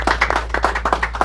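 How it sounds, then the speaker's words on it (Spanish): Brief scattered hand clapping from a seated audience at a talk on Dominican Republic flora, a few sharp claps over a low hum, no voices. "Un aplauso para él."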